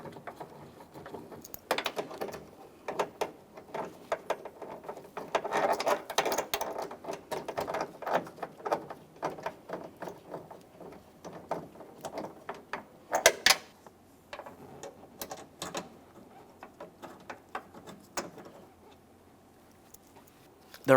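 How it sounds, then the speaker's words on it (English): Mirror mounting bolts being threaded and started by hand on a Subaru Outback, a long stretch of faint ticking, scraping and small mechanical clicks, close and irregular, with a voice speaking at times. "Let's get these next two bolts in here."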